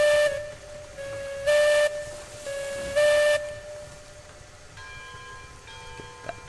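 A steam locomotive in the Railroads Online video game sounds sustained tonal blasts in a repeating on-off pattern over a constant hiss of open cylinder cocks. Lighter ringing tones follow near the end, all heard close with no talk.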